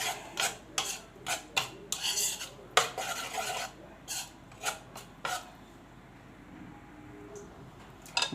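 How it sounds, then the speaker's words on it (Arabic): Chicken marinade with vinegar and lemon being mixed in a bowl, a series of rasping scrapes and rubbing strokes of a utensil against the dish, close and irregular, thinning out to quiet near the end. "طبعا اقلب كل ده مع بعض"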